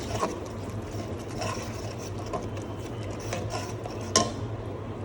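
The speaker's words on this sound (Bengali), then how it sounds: "এটাকে ভালোভাবে কষিয়ে নেব।" Spices for a pabda fish curry being stirred and sautéed in a pan: a continuous low sizzle with rhythmic scraping strokes of a spoon and a sharp clink toward the end, no talking.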